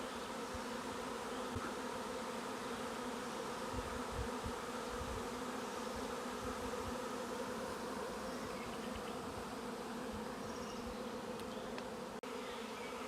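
A dense, continuous buzzing of a honeybee swarm settling onto a hive box fills the air, steady and close, with no voices.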